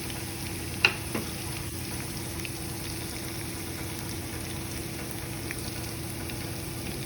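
Garlic cooks in a pan as a soft, steady sizzle heard close by, with one sharp click of a utensil early on and no talking.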